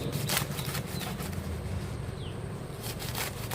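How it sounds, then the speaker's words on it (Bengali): Taro leaves and stalks are cut into small pieces, giving a run of rapid crisp chopping and rustling strokes, close and fairly loud, with brief pauses between bursts and no speech. "ডাটির পাতা সবে নিয়ে নেব এরকম ছোটো ছোটো টুকরো করে কেটে নেব"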